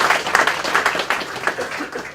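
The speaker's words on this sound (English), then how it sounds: "a round of applause" An audience at a community forum claps in a lively burst of applause, a thick patter of many hands that rises and falls in waves, close and fairly loud, with no voices heard over it.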